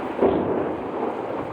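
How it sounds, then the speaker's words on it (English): Loud thunder in a thunderstorm over homes in Texas, a deep continuous rumble filling the moment, heavy and sustained with no talk. "This thunder's loud, bro."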